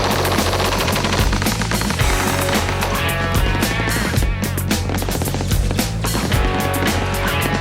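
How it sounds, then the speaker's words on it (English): Loud, sustained machine gun cover fire from a military fire base, dense rapid bursts of gunfire that continue without a break, with no voices heard. "when that fire base opens up"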